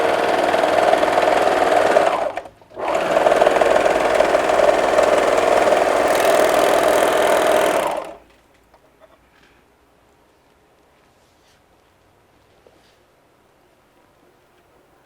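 Sewing machine stitching across the bottom of a hanging travel laundry bag, a loud, close, steady whirring run for about eight seconds with one brief pause early on, then near silence.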